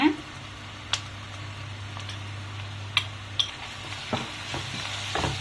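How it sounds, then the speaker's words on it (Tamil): Ginger garlic paste frying with golden-browned onions for a mushroom biryani: a steady low sizzle under a few sharp ladle ticks and taps against the pan, close up, with no talking. "வெங்காயம் வந்து நல்லா பொன்னிறமாக ஆயிடுச்சு இந்த மாதிரி சமயத்தில் வந்து இஞ்சி பூண்டு பேஸ்ட் ஆட் பண்ணிங்க"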